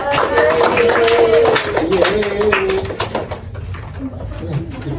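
Applause in a school classroom for a student after her presentation: a dense burst of many hands clapping, loud and close, that thins out and fades over a few seconds amid background chatter.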